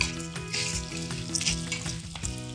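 Whole spices, including cinnamon, star anise, cardamom, mace, nagkesar, black pepper and cloves, fry in hot oil with a steady, close sizzle and light rhythmic stirring clatter, with no talking.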